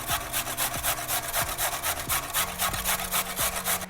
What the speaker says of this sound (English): So I'm just going to use the largest hole in the box grater.